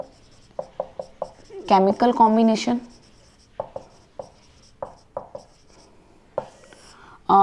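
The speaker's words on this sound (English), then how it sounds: "I am writing here 5 laws." Writing on a board during a chemistry lesson produces short, scratchy strokes in quick rhythmic bursts, close and fairly loud, with a brief spoken phrase breaking in partway through.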